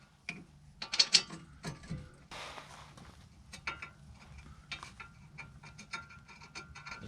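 Metallic clinks, scrapes and ratcheting as a brake caliper and screw are fitted to a Mini Cooper S R53 during a front brake upgrade, close and fairly quiet, in irregular bursts with a louder cluster near the start.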